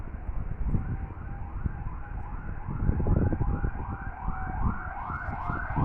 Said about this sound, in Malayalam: ആംബുലൻസ് പോകുന്ന ശബ്ദമാണ്.